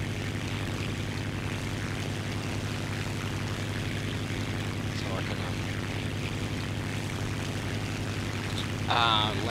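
Propeller airplane in War Thunder droning steadily in flight, a constant engine hum with strong harmonic tones, while someone talks briefly over it.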